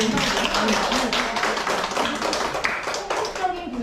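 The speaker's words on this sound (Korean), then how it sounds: "박수 한번 보내주세요." Audience clapping at a Korean education session, a dense, steady wash of many hands that stays loud for the whole stretch, with a voice faintly mixed in.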